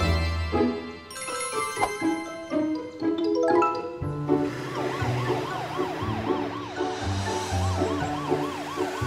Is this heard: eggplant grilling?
no